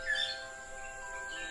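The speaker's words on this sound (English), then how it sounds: "The rare Sri Lankan blue magpie." A Sri Lankan blue magpie gives a short, faint, high call at the start in a Sri Lankan rainforest, followed by quiet background hiss.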